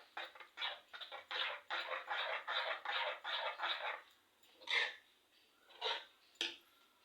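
Rava idli batter made from semolina is stirred with quick, rhythmic wet strokes for several seconds, then a few isolated scrapes follow with pauses between them.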